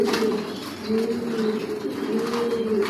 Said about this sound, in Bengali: অরিজিনাল রেসার জনসন লাইনের কবুতর পালি